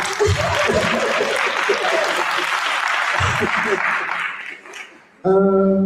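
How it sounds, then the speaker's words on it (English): Audience applause at a business workshop in Laudium, a sustained round of clapping from a room full of people that fades briefly before a voice begins speaking near the end. "Round of applause for me, please."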